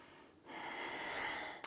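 A single deep, slow breath during a standing movement break, a soft airy draw followed by a steady exhale ending in a brief nasal puff, quiet and close with no talking.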